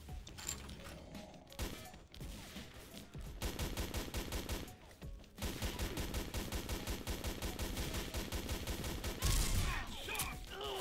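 Sniper and automatic gunfire in the shooter game XSHOT: dense rapid volleys of shots with mechanical reloading clicks, brief pauses, then sustained bursts building to a loud end.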